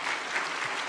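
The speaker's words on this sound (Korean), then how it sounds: "한번 박수하겠습니다." A church congregation at a teachers' dedication service claps together in a brief, dense burst of applause, even and continuous throughout.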